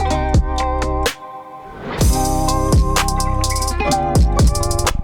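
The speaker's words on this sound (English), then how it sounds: "I used this really nice whoosh and hit transition from a pack that I bought off of Splice for trailer transitions" A whoosh-and-hit transition sample from a trailer-transitions pack sweeps up and lands in a hard trap beat, with a brief dropout before the riser swells and punchy drums and bass carry loudly into the next section.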